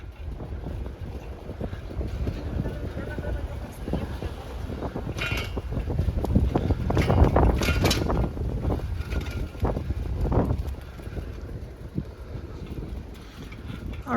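Steady wind roar buffets the microphone during a bike ride along a contraflow bike lane on Berwyn in Chicago, a heavy headwind rumbling continuously with gusts swelling midway through.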